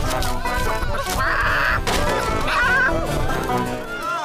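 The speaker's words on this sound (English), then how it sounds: "A chicken's escaped!" A cartoon chicken clucks and squawks in short excited bursts over a loud, continuous music score, with chase sounds mixed in.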